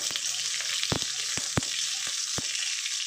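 Mango chutney made with skin-on mango pieces sizzles steadily in a pan on a low flame, a constant frying hiss broken by a few sharp knocks and scrapes of a stirring spoon.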